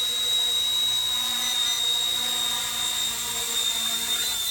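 RCERA C170 Apache RC plane's electric motor whining steadily at dusk as it comes in to land, a loud sustained high-pitched tone that holds nearly level throughout with no talking.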